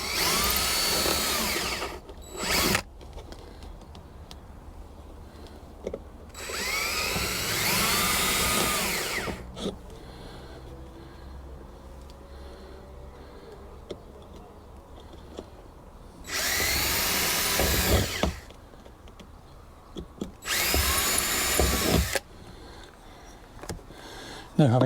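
A power drill with a 2.5mm bit bores pilot holes for gas strut fixings on a locker lid, coming in four loud whirring bursts of one to three seconds each, separated by quieter stretches.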